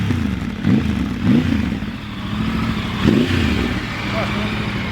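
A motorcycle engine revs and accelerates in repeated surges, rising and falling several times with a rough mid-pitched drone, and a person's voice can be heard alongside.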